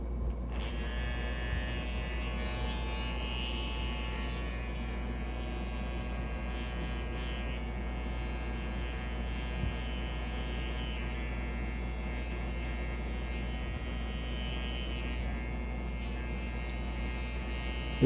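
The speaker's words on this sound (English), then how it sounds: "there's kind of a delay when you first power the switch on and when the trimmer actually comes on" An Andis cordless hair trimmer runs continuously with a steady electric buzz and hum, close and even in level throughout, with no speech.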